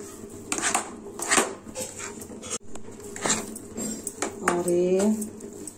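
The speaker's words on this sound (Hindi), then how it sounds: "नारियल के लड्डू बनाने के लिए नारियल के मिक्सर को लगातार चलाते रहे हैं" Coconut laddu mixture is stirred in a pan with a utensil, giving repeated scraping and clinking strokes at close range, while a dog whimpers and whines nearby.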